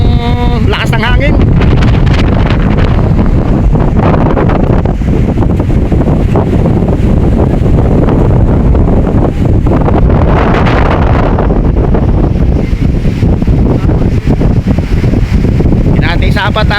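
Strong typhoon wind roars and buffets the microphone continuously, loud and gusty, with sea waves and a voice faintly underneath near a boat.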